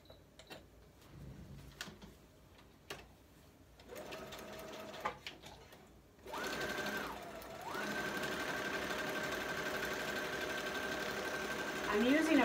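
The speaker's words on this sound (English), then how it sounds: "I'm using a Brothers sewing machine." Brother beginner sewing machine stitching through a handmade journal: a few quiet ticks and clicks, then the motor starts with a loud, steady whirring hum that runs on continuously, briefly dipping in pitch before resuming full speed.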